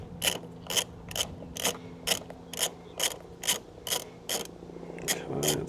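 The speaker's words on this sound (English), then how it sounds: "That's what we'll just use our wrench for, our ratchet for." Close, crisp clicks of a ratchet wrench undoing a 10mm bolt, about a dozen evenly spaced strokes in a steady rhythm, with a low hum underneath.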